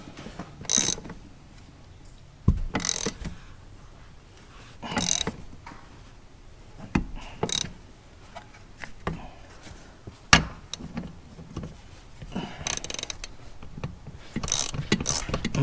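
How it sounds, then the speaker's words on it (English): An air ratchet works on a hay truck: several short bursts of rattling, clicking mechanism noise spaced across the stretch, separated by quieter gaps of background noise. "Oh, you talking about the air ratchet?"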